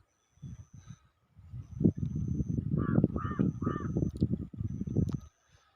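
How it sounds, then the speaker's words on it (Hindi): Crows caw repeatedly near a pond at the edge of a forest, loud and close, with a run of rapid harsh calls and a few higher notes overlapping in the middle. "और ये चिड़ियों का खूबसूरत संसार"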